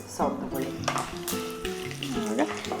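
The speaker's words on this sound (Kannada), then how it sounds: "ಈಗ ಗೋಡಂಬಿ ಸ್ವಲ್ಪ ಚೆನ್ನಾಗಿ ಹುರಿಬೇಕಲ್ಲ" Cashews roast in a hot pan for a navaratna chivda snack mix, giving a steady sizzle with stirring scrapes while voices talk over it.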